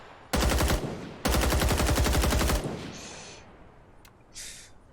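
Automatic gunfire from a heavy-recoil weapon in the video game Rising Storm 2 Vietnam, two loud rapid bursts, the second longer, followed by fading echoes and faint clicks.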